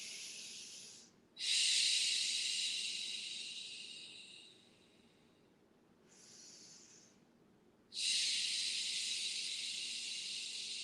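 Slow, deep breathing during a yoga session, with two long, strong exhalations and a softer, shorter breath between them, close and airy in an otherwise quiet room.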